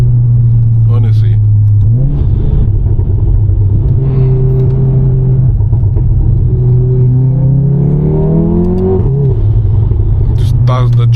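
A Volkswagen Golf R fitted with a Deutsch Tech aftermarket exhaust rumbles from inside the cabin while driving, its engine note rising and dropping through gear changes, with a voice heard over the drone.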